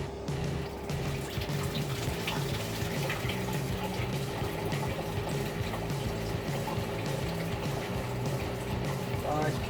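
Water pours steadily into a bucket during a Grainfather home brew day for a Belgian Dubbel, a continuous close splashing rush lasting throughout.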